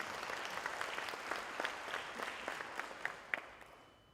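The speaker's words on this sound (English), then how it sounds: "Let's welcome them by a big round of applause to congratulate them." Audience applause at a civic event with the eThekwini mayor, a steady, fairly faint patter of many hands clapping with scattered sharper claps, running alone for about four seconds.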